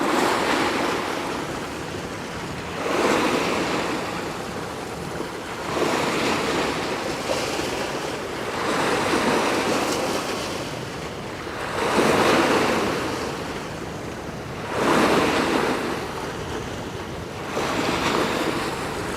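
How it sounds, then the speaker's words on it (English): Waves wash onto the shore of the Westerschelde estuary in the Netherlands, surging in steady rhythmic swells every few seconds under constant wind noise, with no voices. "Yeah, the waves are hitting the shore."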